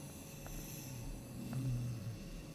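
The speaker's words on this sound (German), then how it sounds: "Ich höre ihn atmen" A creature breathes in the horror indie game Aislin's Story, with low, rasping breaths that are faint and partly buried under a steady ambient drone.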